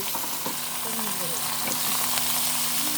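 Tilapia frying in a pan of hot oil, a steady loud crackling sizzle with occasional pops and scraping stirs, with a voice talking faintly in the background.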